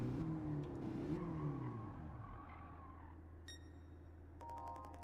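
A race car in Gran Turismo 7 brakes hard: the loud engine note sweeps down in pitch over a steady drone, followed by short electronic game beeps near the end, with no talking.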